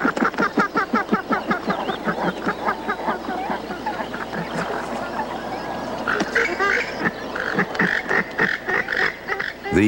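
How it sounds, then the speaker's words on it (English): Green-backed gallinules calling in marsh reed beds, a rapid series of loud, harsh, clucking and honking notes in rhythmic bursts, close and dense, with a shriller squealing passage near the end. "These are green-backed gallinules, attempting to move in where rivals already hold sway."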